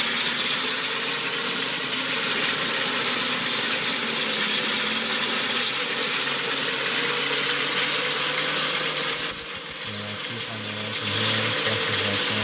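Vehicle engine in a video game coasting with the clutch fully in, giving a steady, droning mechanical hum that dips briefly and shifts tone near the end.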